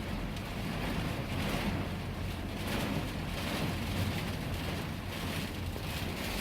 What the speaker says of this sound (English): It's raining so much that I think the parking lot is flooded.